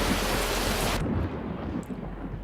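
Heavy rain and hail storm in the Roblox game Twisted, a loud, continuous broadband roar of rain that cuts to a lower, rumbling wash after about a second, with no talking.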